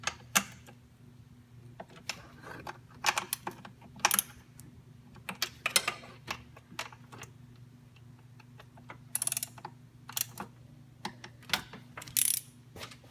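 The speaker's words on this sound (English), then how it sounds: "let's go ahead and tighten them down" A ratchet tightening throttle body bolts, quiet bursts of rapid clicking in irregular spurts over a low steady hum, no talk.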